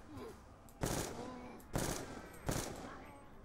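Gunfire in Call of Duty: Black Ops 2 zombies mode on the Buried map, three separate loud shots spaced about a second apart, each a sharp crack with a short tail over quiet background.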